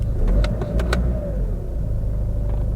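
A SEAT Leon diesel engine idling steadily right after starting, with a low continuous rumble and a few brief mechanical clicks over the top, heard up close and with no talking.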